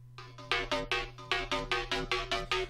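Serum-designed metallic bass synth run through a compressor, repeating a rhythmic series of bright, buzzy, slightly louder and fuller hits over a sustained low tone, close-up with nothing else playing.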